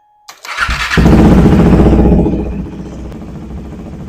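A Husqvarna Svartpilen 401 motorcycle engine cranks and catches with a sharp start, then runs loud and close, settling from a brief surge into a steady idle.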